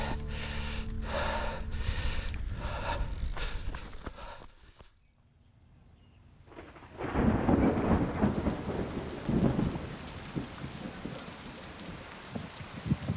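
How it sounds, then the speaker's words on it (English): Thunder rumbles loudly through steady rain, a heavy roll at the start easing into a quiet lull before another strong thunderclap crashes in, followed by continuous rainfall with scattered drops hitting nearby surfaces. "I've never been so happy that it's raining."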